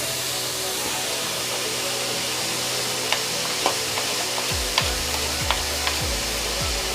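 Chopped onions fry in a pan with a steady hiss, joined later by light taps and scraping as they are stirred, plus a few low thumps near the end.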